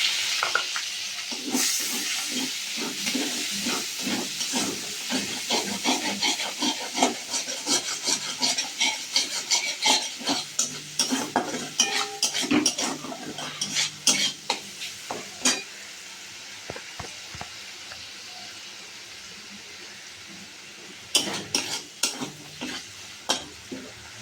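Steady sizzling of grated tomato in a pan with repeated scraping and stirring strokes, busy and close, easing to a quieter fry near the end with a few final scrapes.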